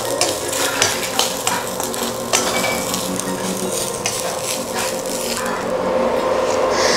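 Cumin, black pepper and coriander seeds dry-roasted in a pan while being stirred, giving a steady scraping and rattling with repeated knocks of the spoon against the pan, a soft sizzle underneath and no voices.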